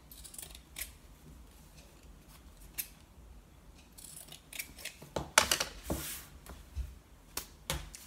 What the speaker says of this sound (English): now I'm just going to trim off the threads on the end